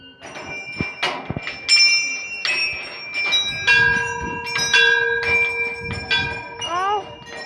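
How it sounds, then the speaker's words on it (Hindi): Many small metal bells hung by devotees ring at a hilltop temple of Maa Kalinka, a busy run of overlapping clangs and sustained chimes with voices talking in the background. "ये बहुत सारी घंटियां चढ़ाई हुई श्रद्धालुओं ने।"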